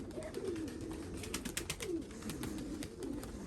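Pigeons coo repeatedly in low, throaty rolling calls, close by, with brief chirpy clicks and rustling in the background.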